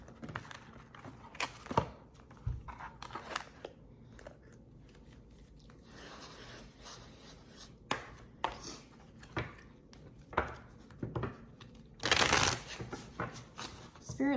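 A self-care card deck being shuffled by hand, with repeated crisp riffling bursts and soft card slaps at an irregular rhythm. One louder flurry comes near the end. A low voice murmurs faintly beneath.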